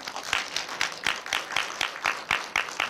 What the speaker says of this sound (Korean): 감독님께 큰 박수, 환영의 의미로 박수 부탁드리겠습니다